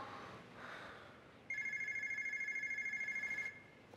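A telephone in a home rings with one continuous electronic trill lasting about two seconds, clear above a faint room hiss, with no voices.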